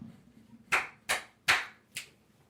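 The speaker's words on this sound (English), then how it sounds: "Can you clap three times for me, please?" Hands clap sharply four times, close and clear with short gaps between, in a quiet room with no talking.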